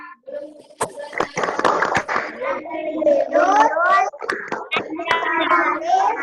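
Schoolchildren clap out the PPK routine in a classroom, with several sharp hand claps in a quick rhythm mixed into their loud chanting voices.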